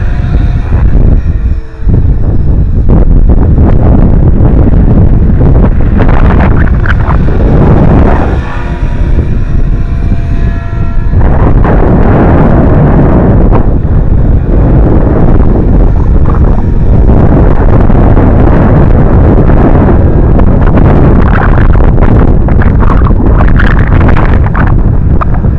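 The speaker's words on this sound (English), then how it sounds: "it's actually windier up there than it is down here" Strong outdoor wind buffets the microphone, a loud, continuous roaring rumble with gusty surges across the whole stretch and no talking.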